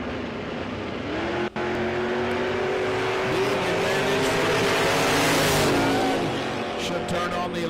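An S10 and a Camaro launching at a no-prep drag race, loud engines roaring and revving hard as they pull away, with a crowd and a track announcer talking over them.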